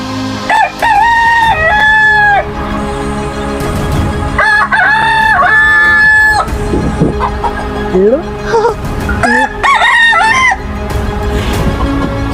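A rooster crows repeatedly through a loudspeaker, long drawn-out calls with clucking in between, loud and close, with some background noise.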